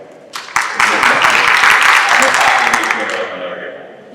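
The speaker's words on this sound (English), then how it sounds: "All right, you can clap again." Applause from a school PTO meeting crowd, a short burst of clapping swelling quickly, holding steady, then tapering off over a few seconds.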